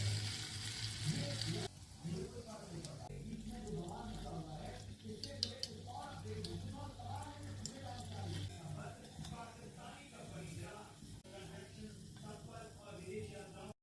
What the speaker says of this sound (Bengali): তো তেল গরম হওয়ার পর আমি এখন একটা একটা করে তেলে পিঠে ভাজবো